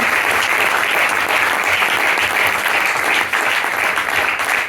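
A church congregation claps at a Sunday testimony service, loud and dense, with the applause running steadily throughout and fading slightly at the very end.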